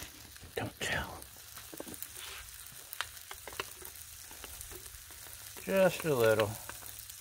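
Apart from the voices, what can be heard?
garlic sizzling with spaghetti on a Blackstone griddle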